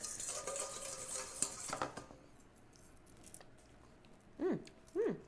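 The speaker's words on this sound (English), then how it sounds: "Let me just whisk this mix up and give it a quick taste." A whisk scrapes and clatters quickly around a bowl of dressing mix for about two seconds, close but soft. Quiet follows, then two brief high chirping sounds.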